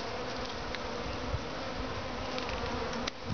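A honey bee swarm gives a dense, steady buzzing drone, close and continuous throughout, with no voices.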